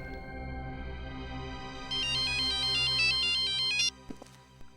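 A mobile phone ringtone plays alone, a sustained electronic melody that grows louder and brighter with a rapid repeating tone pattern before cutting off abruptly, followed by faint knocks.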